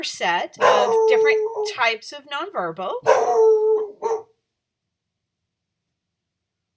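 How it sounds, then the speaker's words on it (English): A dog howls and whines in several rising, wavering cries that overlap with a person talking in a classroom-style lecture, then everything drops to silence. "I apologize for the dog"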